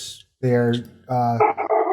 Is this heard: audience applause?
no